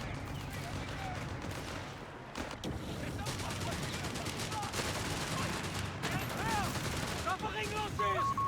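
Rifle fire in Company of Heroes 3, a dense run of rapid gunshots and bursts mixed with explosions and battle noise, loud and continuous, with a voice talking over it.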